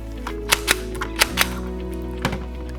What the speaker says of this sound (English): Then pinch again, and we just put that straight back into the gun.